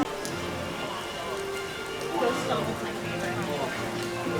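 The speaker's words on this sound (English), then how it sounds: "if the rain clears" Rain falls steadily at Disney World's EPCOT, a constant hissing patter close around the listener with occasional louder bursts, and voices talk softly beneath it.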